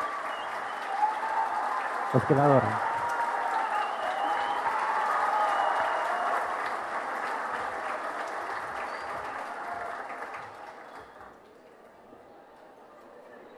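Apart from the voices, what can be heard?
audience applause for a chef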